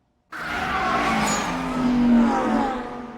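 Race cars in a racing game revving and accelerating through narrow residential streets toward a T-junction corner, a steady loud engine drone with rising pitch and a brief tire squeal near the end.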